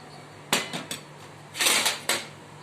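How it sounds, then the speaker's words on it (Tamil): Cooked mutton bones added to a pot of dalcha and stirred in: a handful of sharp metallic clanks and scrapes of a spoon against the pot, close and irregular, with quiet gaps between. "எலும்பு போட்டு ஒரு மிக்ஸ் கொடுத்துருங்க."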